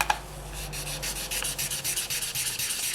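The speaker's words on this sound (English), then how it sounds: "you just want to give it a light sand, and this is to remove any spots or problems that you might have" Wet sandpaper rubbing back and forth over a polymer clay bead in a steady, close, even scrubbing rhythm, with no voices.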